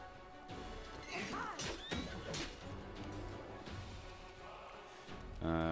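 A horse in the video game Pathfinder: Wrath of the Righteous neighs and whinnies amid smashing, thudding combat hits, loud and close over a steady game backdrop.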